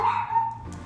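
A dog gives a short, close bark or yip that lasts under a second.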